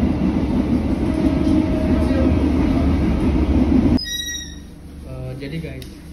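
A train carriage rumbles steadily along the rails for several seconds, then the noise suddenly drops to a quieter interior hum with faint tones and voices.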